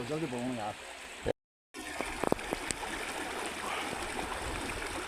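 A river flows steadily with light trickling and small splashes, while a person talks over the water. The sound drops out briefly partway through.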